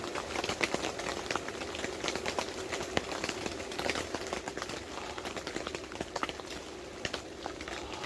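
Water bubbles and boils in a pot at a mountain campsite inside a large tipi tent during heavy rain, a steady close crackling, popping simmer that continues without any talk.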